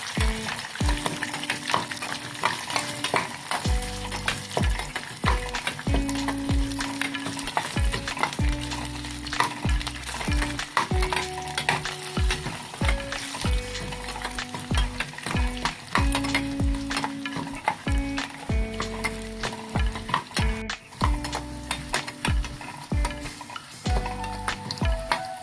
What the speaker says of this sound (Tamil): கிண்டி விட்டுக்குவோம்.